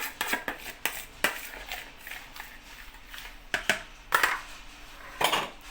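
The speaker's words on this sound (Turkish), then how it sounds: "Ve bunu ben güzelce harmanlayayım. Salçası, eti birbirine işlesin." Meat for Antep tava is mixed with tomato paste in a bowl, giving a run of irregular close clinks and scrapes of utensil against dish.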